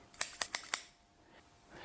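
Scissors cutting paper: four quick, crisp snips in a fast run, close and clear, then near silence.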